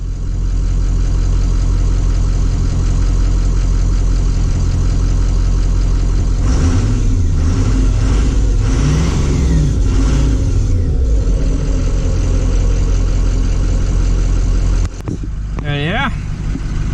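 A 2007 Ford E450 ambulance with a 6.0 diesel engine idles in a loud, steady rumble. The engine note shifts midway, and a brief cut and a higher whine come near the end.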